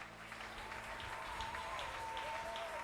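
Church congregation applauding during a French-language Sunday service: steady, dense clapping that continues evenly throughout, with a faint sustained tone underneath.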